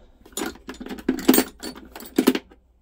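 A small set of Imperial Allen keys from a mechanic's three-drawer tool box jangles in several metallic bursts, close and moderately loud, with short pauses between handlings.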